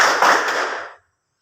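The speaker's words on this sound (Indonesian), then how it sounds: "tepuk tangan 3 kali, 2 kali" Classroom of students clapping hands together in unison, a dense burst of claps lasting under a second that stops abruptly into silence.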